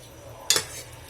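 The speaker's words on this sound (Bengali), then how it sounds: "এখন হচ্ছে আমি এখানে ঢালতেছি প্লেটে" Cooked noodles tipped from a pan onto a plate make a single brief scrape and soft clatter midway through a quiet stretch, with no talking.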